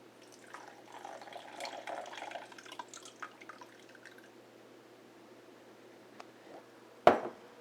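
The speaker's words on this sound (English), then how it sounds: "We want to add another 50 grams of red wine vinegar." Red wine vinegar pours into a Thermomix bowl as a soft, close trickle of liquid for several seconds. A single sharp clunk follows near the end.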